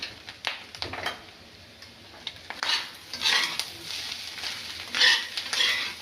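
Clam roast with garam masala being stirred in a pan, soft scraping and tapping of a spoon against the pan with a faint sizzle, close and fairly quiet, no talking.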